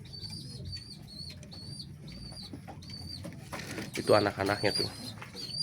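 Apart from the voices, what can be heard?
homing pigeons in a loft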